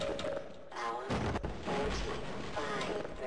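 Grenade explosions in the video game Half-Life boom in heavy, overlapping blasts with crackling debris, fairly loud and dense throughout, while a player talks faintly over the game audio.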